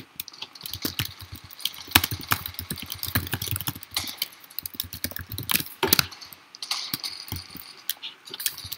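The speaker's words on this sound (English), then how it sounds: "I was too busy typing." Rapid clicking keystrokes on a computer keyboard during a Roblox game session, a busy, irregular stream of close, crisp taps with short pauses, fairly quiet and without voices.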